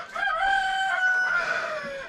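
A chicken's drawn-out vocalizing, a wavering, tonal call held for about two seconds, close and fairly loud with no talking.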